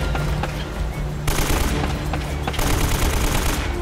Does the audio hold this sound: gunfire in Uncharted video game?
yes